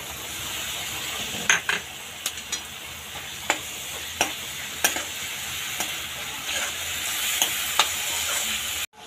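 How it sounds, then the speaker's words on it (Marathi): Yogurt is stirred into oil-rich frying masala for a dhaba-style potato curry. A continuous sizzle runs underneath while a spoon clinks against the pan in a series of sharp, irregular taps. "2 मोठे चम्मच दही टाकून घेऊया"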